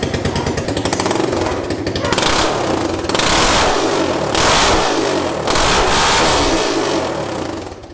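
An old dirt bike running without a muffler is started and revved hard, giving a loud, harsh, rapid-firing engine clatter that swells and eases with each rev, close by throughout.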